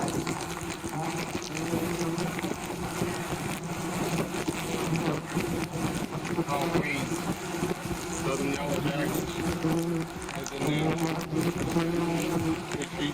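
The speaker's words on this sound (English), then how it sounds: "The yellow jackets had attached their nest to the underside of a house" Yellow jackets swarm and buzz around a huge nest attached under a raised house in Dulac, Louisiana, a dense droning hum that continues steadily while a voice talks over it.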